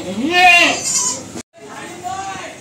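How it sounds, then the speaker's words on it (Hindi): A Kota goat bleats loudly and close by on a goat farm in Bhiwandi, with a long wavering cry and then a second bleat after a brief gap. Someone talks over the animal. "ये कोटा बकरी है। कोटा बकरी आप देख सकते हो"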